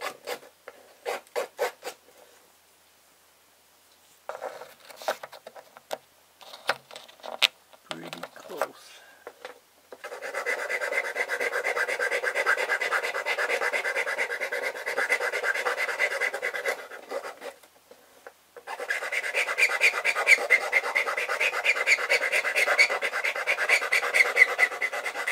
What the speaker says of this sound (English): Sometimes you have to flip it over on the back and sand down some of the back to get the rough edges.